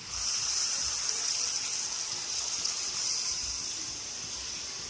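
Water poured into a pan of frying spiced chicken, a steady broadband hiss and gush lasting throughout, fairly close and with no talking over it.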